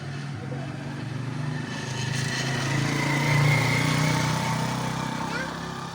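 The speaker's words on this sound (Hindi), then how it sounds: "अभी रुक जा, अभी बाइक उधर से आ रहा है" A motorbike rides past on a road, its engine a steady buzzing drone that swells to a peak near the middle and then eases off, with people talking nearby.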